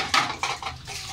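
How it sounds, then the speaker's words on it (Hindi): Dishes, pots and pans clink and knock in a kitchen sink piled full of utensils, several separate close clatters with a faint background hiss and no talk. "ये देखिए सिंक भर गया बर्तनों का"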